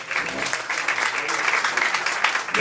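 A crowd claps steadily for poet Laure Morali at a third-anniversary poetry evening, with a brief burst of dense, even applause and no pauses.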